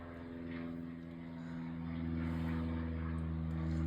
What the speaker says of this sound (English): Little aeroplane.